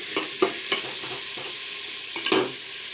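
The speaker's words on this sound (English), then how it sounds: "Now I will put in the potato and cauliflower." Potato and cauliflower pieces dropped into a hot frying pan and stirred while making junglee pulao, giving a steady oil sizzle with a few sharp clanks and scrapes of the spoon against the pan, close and alone.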